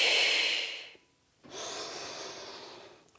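Breath pushed out during a Pilates exercise: a long, close, airy exhale, a short pause of near silence, then another sustained breath that slowly trails off, with no talking.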